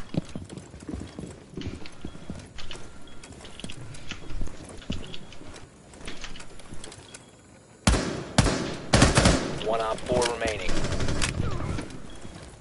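Gunfire fills a Rainbow Six Siege match, with rapid bursts and sharp shots that grow louder and denser toward the end over busy game noise, while players talk throughout.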